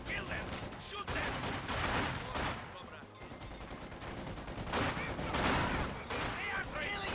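Dense bursts of gunfire from conscript infantry in a real-time strategy game, a fusillade of rapid overlapping shots running continuously under a speaking voice.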